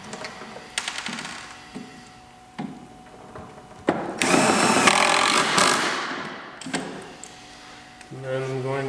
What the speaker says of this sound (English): I'm going to put screws down bottom shelf, suck it down tight.